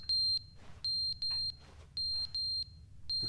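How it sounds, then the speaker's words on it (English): Electronic alarm from a fallen clock in The Stanley Parable Ultra Deluxe, a loud, piercing high beep repeating in short pairs and single bursts, sharp and close with gaps between. "There is a beeping sound. What's beeping?"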